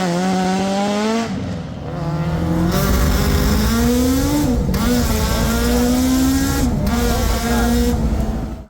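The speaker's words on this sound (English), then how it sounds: "This has the engine from a 2001 Kawasaki Ninja Zx11 in the back" A 1991 Autozam Scrum kei truck with a 2001 Kawasaki Ninja ZX11 motorcycle engine in the back drives hard, its high-pitched engine revving loud and close and rising through each gear with brief drops at the shifts.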